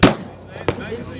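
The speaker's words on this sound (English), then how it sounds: "You're hitting a 100-yard plate with a carry pistol." A carry pistol shot at an outdoor range during a trade-show industry day, one loud close crack with a fainter second report about half a second later, likely the strike on a 100-yard steel plate.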